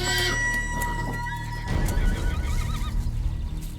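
Horses neigh and whinny on a roadside among many horses, with shrill, wavering calls over a continuous background rumble and some rough clattering noise.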